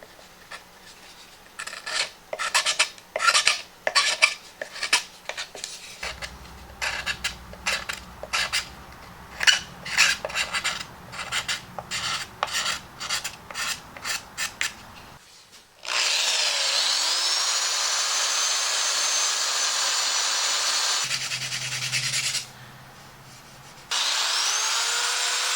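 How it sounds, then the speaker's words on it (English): A small curved scraper scrapes excess epoxy off a wooden repair in rapid rasping strokes, then a power sander takes over with a loud continuous whine that pauses briefly and resumes. "I'm going to use a small curved scraper to scrape off the excess,"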